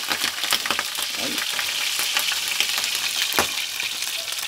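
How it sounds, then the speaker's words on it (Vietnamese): Roast pork stir-fried with bitter cabbage shoots in a Hmong home kitchen, a steady close sizzle with scattered sharp crackles and spattering pops, no talking. "Thịt heo chiên xào với búp cải đắng rất chi là ngon."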